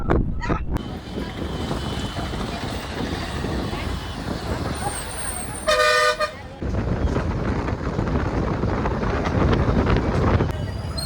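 A Vinukonda to Vijayawada bus pulls into the bus stand, with a short loud horn blast over rumbling engine and traffic noise and heavy wind buffeting the microphone.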